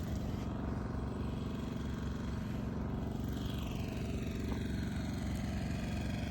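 A generator running almost nonstop at a house lot, giving a steady mid-pitched engine drone that holds level throughout with no breaks.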